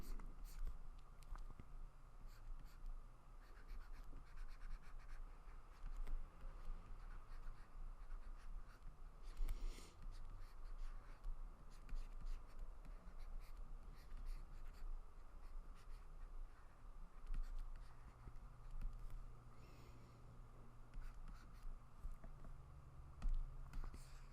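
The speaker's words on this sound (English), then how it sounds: "Before we clean it up, I'll just draw one more." A pen draws sketch lines on paper, giving quiet, continuous scratching strokes with occasional light taps, faint and close.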